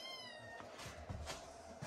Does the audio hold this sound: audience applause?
no